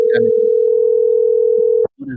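A steady, loud telephone dial tone hums for nearly two seconds while a call is being placed, then cuts off, with brief voice sounds at the start and end.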